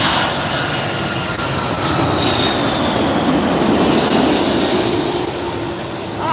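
An Aer Lingus Airbus A330 airliner arriving from Dublin at LAX makes a loud, steady roar with a faint whine. The noise swells slightly mid-way and then eases, with no talking.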